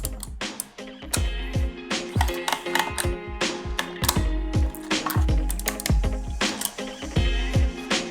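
A screwdriver works Phillips screws out of the bottom of a Mistel Barocco MD600 split keyboard, giving repeated sharp ratcheting clicks and small scraping turns in a close, irregular rhythm, with no talking.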